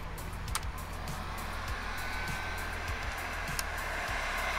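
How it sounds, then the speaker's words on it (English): A heat gun runs on a Bluetti AC180 portable power station, producing a steady, fairly quiet fan-and-air hiss with a low hum beneath and occasional faint clicks. "Now we're going to turn on the heat gun."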